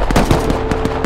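Gunfire and rocket blasts in the video game Rust crackle in a rapid, loud series of sharp reports over about a second, with heavy low rumble beneath.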